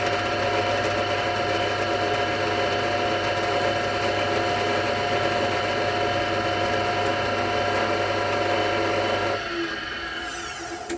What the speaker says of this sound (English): the drill comes down right on that center there. So I'm just going, this is just a pilot hole, just a short, small pilot hole.